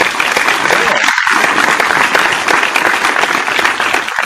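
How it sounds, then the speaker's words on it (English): A loud, dense burst of applause fills a live show setting, continuous clapping from a group throughout, with a voice faintly audible beneath it. "A round of applause."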